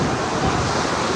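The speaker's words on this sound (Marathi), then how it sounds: "बाई तिथपर्यंत पाण्याची लाट आलेली" Sea waves wash onto Devgad beach on the Konkan coast, a steady broadband roar of surf with wind buffeting the microphone, loud and continuous with no voices.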